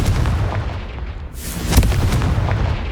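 In Hogwarts Legacy, a Confringo blasting spell detonates as a heavy booming explosion with a low rumble and a sharp whooshing burst midway, no talking.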